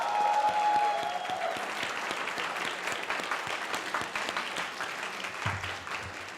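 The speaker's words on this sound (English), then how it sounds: "let's give the class of 2017 a round of applause" Crowd applause at a 2017 high school graduation ceremony, honouring the graduating class: steady, dense clapping from a large audience filling the hall, holding even for several seconds with a brief low thump near the end.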